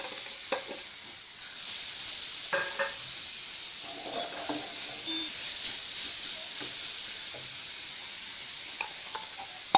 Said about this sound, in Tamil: முந்திரி வறுத்த இதே நெய்யில் நான் ஒரு பெரிய பீட்ரூட் 2 நான் இது மாதிரி சீவி வச்சுருக்கிறேன் சன்னமாக.